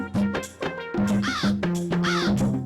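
Cartoon crow in a Hindi animated jungle story cawing several times in quick succession, loud, harsh and close, each caw a short nasal burst.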